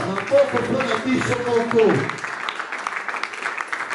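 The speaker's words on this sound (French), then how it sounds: "Les applaudissements pour nous-mêmes." A church congregation applauds itself, a dense burst of clapping under voices that fades out around the two-second mark, leaving quieter room murmur.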